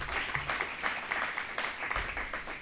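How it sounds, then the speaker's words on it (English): A crowd at an outdoor political rally gives a round of applause for the local volunteer fire department. The clapping is moderate and continuous, a little distant and fairly soft, with occasional low thumps. "we'd like for everyone to give a round of applause for the HOLT'S SPUR Volunteer Fire Department"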